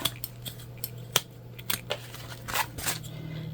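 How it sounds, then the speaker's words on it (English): Sewing scissors snip off excess zipper tape from a handmade key fob wallet in a few sharp, separate clicks and snips, close by and moderately quiet over a steady low hum, with no voices. "So now we're going to cut off our excess zipper tape"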